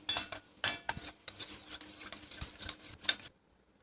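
Beaten eggs with chili flakes, oregano and salt whisked in a bowl, a close series of quick scraping and tapping strokes of a utensil, uneven in rhythm, ending abruptly.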